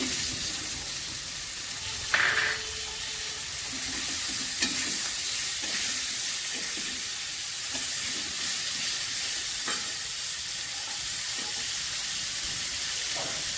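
Onions and potatoes sizzle together in a pan with a steady frying hiss, with intermittent scrapes and taps of a stirring utensil spread through the clip and no talking.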